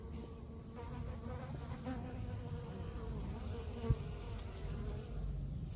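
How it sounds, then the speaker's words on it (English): Honey bees buzz continuously as they gather nectar from fruit, a soft, dense droning hum of many insects close by, with one brief knock partway through and no speech. "These are all bees. Whole heap of them."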